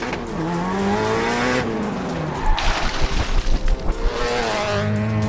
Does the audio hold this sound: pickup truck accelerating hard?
yes